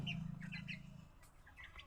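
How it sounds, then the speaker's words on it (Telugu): Chickens scratching and playing in sand, with scattered chirps and squawks close by over a low steady hum. "నేను ఇక్కడ సావిట్లో కూర్చుని వీడియోకి వాయిస్ ఇచ్చుకుంటున్నానండి ఇంకా మా కోళ్ళు కూడా నాతో పాటే ఉన్నాయన్నమాట చూడండి"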